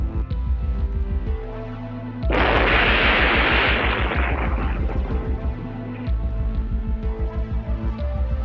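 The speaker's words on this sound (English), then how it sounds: "we have this explosion that looks like a nuclear bomb" A deep, roaring blast from a large military test explosion erupts and rumbles on for several seconds, loud and broad, over steady background music that continues before and after.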